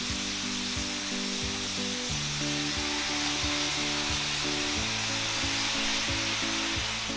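A whole fish frying in oil in a pan for sweet and sour fish gives a steady, close sizzle throughout, with no talking.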